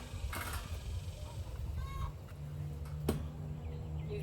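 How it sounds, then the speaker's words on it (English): Birds clucking and honking around a garden greenhouse, a few scattered calls over steady low background rumble, moderately faint with brief sharper bursts. "These birds."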